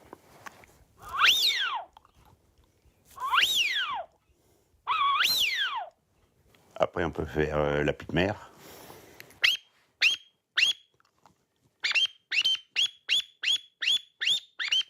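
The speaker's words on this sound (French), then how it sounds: "on pouvait fabriquer des sifflets avec des douilles" Shrill whistle blasts from a whistle made of cartridge casings rise and fall in pitch, followed by a fluttering trill and then a rapid series of short, sharp whistle toots. A voice speaks briefly.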